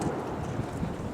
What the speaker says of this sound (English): A little cool out here and windy.